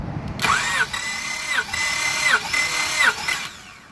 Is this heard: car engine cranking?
yes